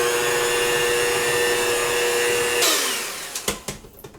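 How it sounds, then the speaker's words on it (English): A hand mixer whirs steadily through vegan cake batter for a few seconds, then shuts off, leaving a few light clicks and knocks of the bowl and beaters. "I'm just gonna slowly add a little bit of milk until I get a batter with the hand mixer."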